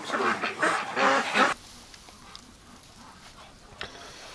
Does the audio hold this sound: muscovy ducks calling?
yes